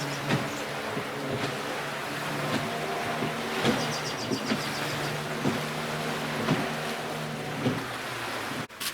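A Yamaha 15 horsepower outboard motor on a tiny 11-foot skiff hums steadily with a low, even drone, punctuated by rhythmic thumps of the hull against water, no voices.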